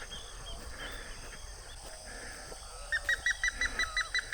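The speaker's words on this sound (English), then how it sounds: "there's birds of all sizes flying in and out" Water birds in the Brazilian Pantanal give faint, scattered calls over a soft outdoor background, then a quick run of regular, loud honking notes comes in close near the end.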